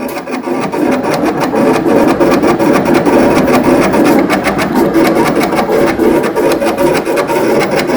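A Summa vinyl cutter lifts and repositions its head, then drives the blade through vinyl sheet, giving a loud continuous mechanical whir with rapid rasping, ticking pulses throughout and no pause.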